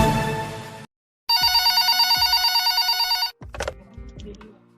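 A telephone rings loudly for an incoming caller to a radio show, one continuous trilling electronic ring lasting about two seconds between bursts of studio music.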